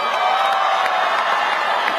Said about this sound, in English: Ooh, the crowd approves.